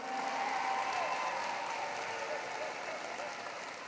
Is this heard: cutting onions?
no